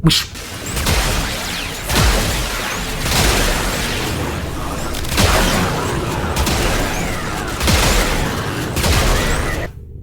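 A heavy primary weapon in the Warframe game fires in repeated crushing booms with whooshing tails, about five blasts spaced roughly two seconds apart and loud throughout.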